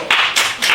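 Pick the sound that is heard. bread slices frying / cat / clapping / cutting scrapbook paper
clapping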